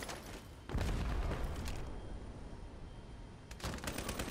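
Gunfire in the shooter game Ironsight: a sudden burst of rapid shots erupts, then trails into a rumbling tail, with another volley of shots cracking in near the end.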